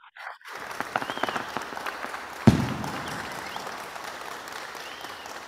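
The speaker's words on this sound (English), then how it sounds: "let's have a round of applause for these finalists" Audience applauding award finalists at a chapter recognition awards ceremony; steady mid-level clapping from a crowd that starts abruptly, swells with a sharp accent midway, then continues evenly to the end.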